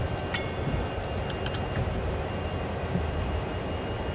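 A video game locomotive rumbles steadily with a low engine drone and faint high squeals, continuous and fairly close, with no talking.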